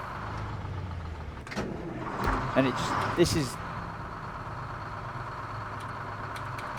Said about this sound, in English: the engine won't stay off